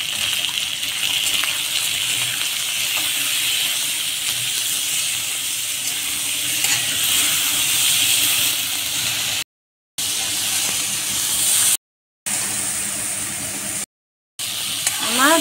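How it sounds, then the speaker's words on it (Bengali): Eggplant and ridge gourd slices frying in a pan make a continuous loud hiss and spatter, broken by a few brief dropouts into silence near the end. "আমার বেগুন ঝিঙ্গা ভাজা হয়ে গিয়েছে"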